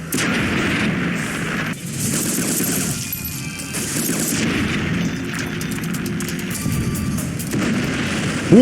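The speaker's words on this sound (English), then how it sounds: "What was that explosion?" Rumbling, booming explosions from the Fallout: New Vegas video game fill the whole stretch, dense and sustained like artillery barrage, with heavy low-end roar and a few sharper bursts near the end.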